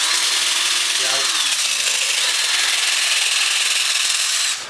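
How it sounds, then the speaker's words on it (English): Electric drill carving concave hollows into a 3-D backdrop, a steady loud broadband grinding and rasping that runs unbroken for several seconds before cutting off. "I'm using my good drill."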